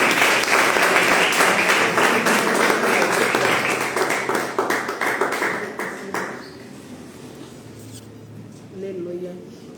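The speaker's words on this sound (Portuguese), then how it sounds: "Você que queria, bata as palmas." A church congregation claps hands in sustained applause that is loud and dense at first, then thins out and fades, with a voice speaking briefly as it dies away.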